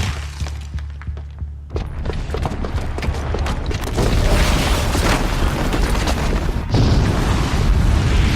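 A bomb on a ground floor detonates in the video game Horizon Zero Dawn: a dull boom gives way to a loud, sustained broadband roar of blast and debris that swells again twice toward the end.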